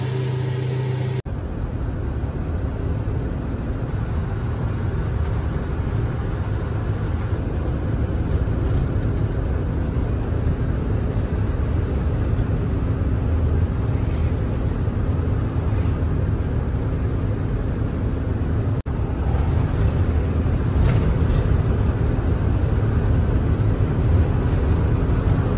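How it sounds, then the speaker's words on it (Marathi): A diesel vehicle's engine drones steadily and loudly for the whole stretch, a constant low rumble with road and cabin noise on a long journey and no voices. "तर डिझेल वगैरे टाकून निघेल आपली इथून गाडी आता"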